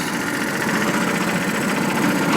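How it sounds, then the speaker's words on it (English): A vehicle engine idles in neutral close by, a steady, even rumble with slight vibration and no pauses. "Just knock him into neutral, wait for it to stop, let the engine catch up in the gearbox."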